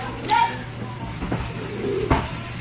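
Racing pigeons coo a few times nearby, soft low throaty calls amid light background rustle and a brief faint voice.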